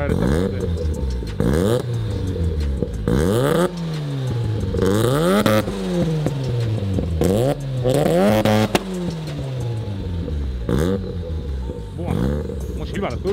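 A turbocharged Mazda RX-7 rotary engine revs repeatedly, close and loud, each sharp rise to the limiter followed by a falling whine, with turbo whistle and occasional excited voices between pulls.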